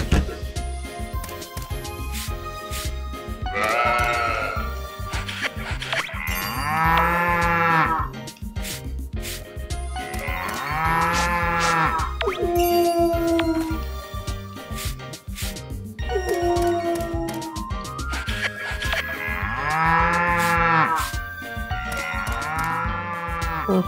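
Cattle mooing in the farming video game Story of Seasons: Pioneers of Olive Town, with repeated long, loud, tonal moos from several animals overlapping steadily over game background music.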